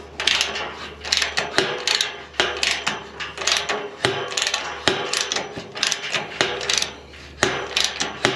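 A ratchet wrench is turned by hand in quick repeated runs of clicking strokes with brief pauses between sets, loud and close with no talking, while hanging a gate on a post.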